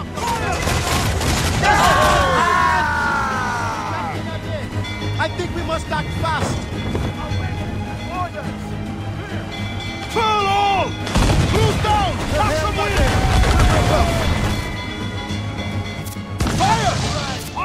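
Ship cannons in Assassin's Creed Freedom Cry fire in a loud, rolling fusillade of booms and crashes, bursts recurring throughout over dense battle noise, with shouting voices on top.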